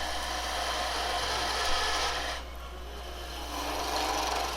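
Metal calipers ride against a wooden tobacco pipe shank spinning on a lathe, giving a steady, close, dry rasping scrape that dips briefly and then resumes with the same grainy friction.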